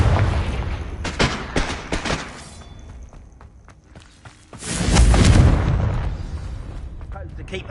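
A Confringo fire spell in Hogwarts Legacy bursts with booming explosive blasts and crackling impacts, a loud rumbling surge building midway, mixed with game combat effects.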